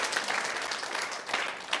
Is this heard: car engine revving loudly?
no